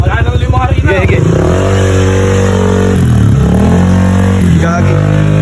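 A motorcycle engine revs loudly up close, with rising and falling pitch sweeps and a rough, throbbing tone, while people talk over it.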